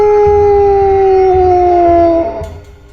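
A dog lets out one long, mournful howl, loud and close, its pitch sliding slowly downward before it fades into a faint whimper.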